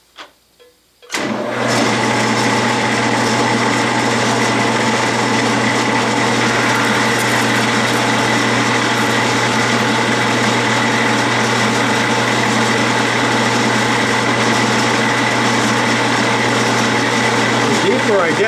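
A metal lathe spindle runs steadily through a parting cutoff, a continuous loud mechanical whine with layered tonal hum that starts abruptly after a short quiet moment and holds level to the end.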